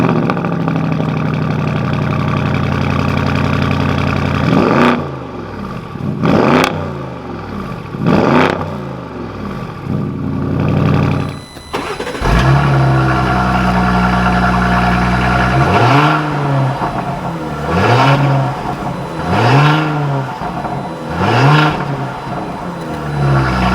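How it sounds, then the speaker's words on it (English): A 2021 Porsche Cayenne GTS V8 engine cranks and fires up, settles into a loud idle, then is revved repeatedly in sharp rising-and-falling bursts, close and powerful. "let's go ahead and fire up the Cayenne GTS"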